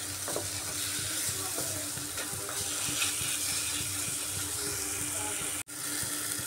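Spice paste fries slowly on low gas in a pan for a chicken and bottle gourd curry, giving a steady, close sizzle with occasional scraping stir sounds and one brief dropout near the end.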